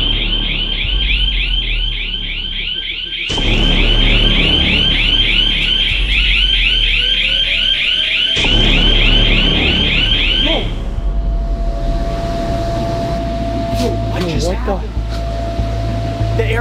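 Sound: loud alarm going off in trampoline park

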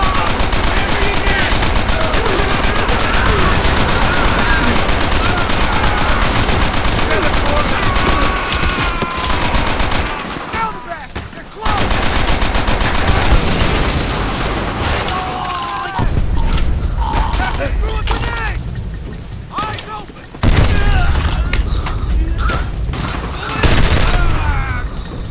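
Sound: machine gun fire in Call of Duty: World at War video game

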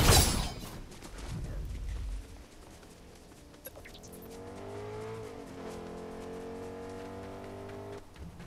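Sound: car driving in the video game Fortnite

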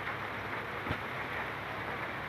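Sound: rain falling

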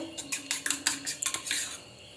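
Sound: whisking eggs in a bowl

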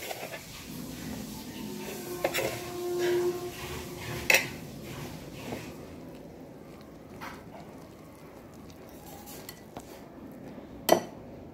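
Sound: mixing carrot into cake batter in a bowl

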